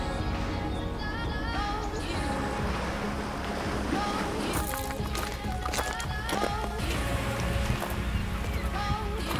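A boat moves across choppy water off the Gaspé Peninsula, Canada, with a constant wash of waves and wind and rushing splashes against the hull.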